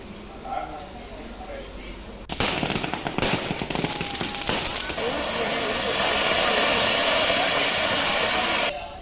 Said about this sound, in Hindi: अन्नपूर्णा देवी के आवास पर जश्न का माहौल और आतिशबाजी चल रही है